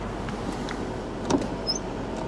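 An Infiniti G37xS power window motor hums faintly for about two seconds inside the quiet car, a soft steady whir with a small click near the end.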